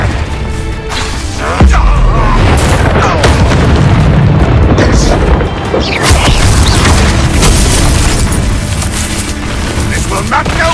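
A Confringo fire-blast spell goes off in Hogwarts Legacy combat, loud booming blasts over a dense rumble of battle effects that fill the whole stretch, with voices heard among the noise.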